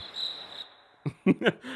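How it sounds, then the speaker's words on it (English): Cricket chirps played as a sound effect: a steady high insect trill runs for about half a second, then gives way to a few louder, separate bursts near the end. "y'all dropping the crickets in the chat"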